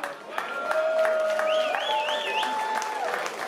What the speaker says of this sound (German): nochmal Applaus für unseren Patrick hier